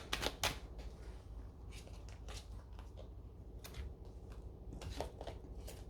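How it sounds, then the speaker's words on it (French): Tarot cards being laid out one after another on a table, giving soft papery flicks and snaps at irregular intervals, quiet and close. "Je vais poser 10 cartes"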